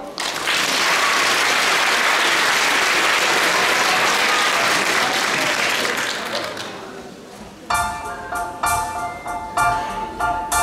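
Dense, loud applause from a concert audience after a song fills most of the passage, then fades as music with bright tonal notes begins playing in short phrases toward the end.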